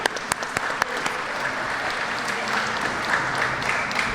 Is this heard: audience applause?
yes